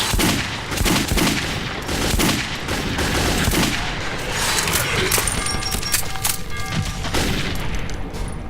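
Dense, continuous automatic gunfire with booming shots fills a battle in the video game Metro 2033. Voices are mixed in under the loud barrage.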